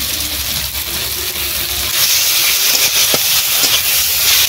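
Ginger and cumin paste hitting a pan of fried onion and tomato gives a steady, loud hiss of sizzling that swells partway through and holds close and continuous, with no voices.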